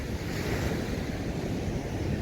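Strong ocean waves surge and break on a beach near Durban, South Africa, with a continuous loud roar of surf and wind buffeting the microphone, and no voices.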